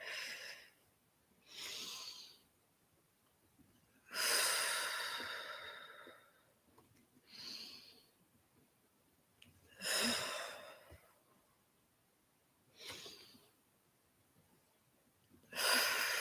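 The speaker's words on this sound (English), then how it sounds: "Lovely deep breath." Slow, deep breaths during a gentle morning yoga session, each long inhale or exhale rising and fading in a steady rhythm, close and soft, with quiet pauses between them.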